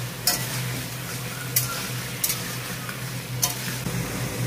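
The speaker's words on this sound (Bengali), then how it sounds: "আমার আলুটা কিন্তু আমি এরকম ভাবে লাল লাল করে ভেজে নিচ্ছি" Raw, unboiled potato pieces with a little salt fry in oil in a wok, browning to a reddish color. A steady close sizzle runs throughout, broken by a few sharp scraping stirs.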